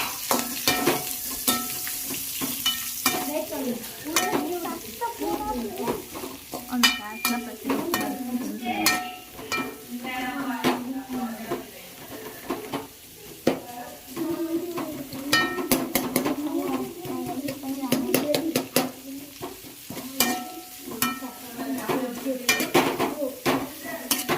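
Garlic, onion and chili fry in a home-kitchen pan, a continuous sizzle broken by frequent scraping and clinking as a metal spoon stirs against the pan, with no talk.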